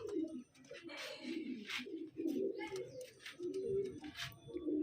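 Domestic pigeons, including a female, coo in soft repeated bursts close by, layered over one another continuously with a few higher chirps mixed in.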